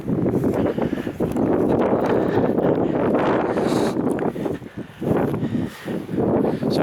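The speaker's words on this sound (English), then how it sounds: "As we come back up here, we'll get some more wind noise." Strong, continuous wind buffeting a microphone outdoors beside a wet castle moat on flat open land, rumbling loudly and nearly unbroken with brief dips, no talking.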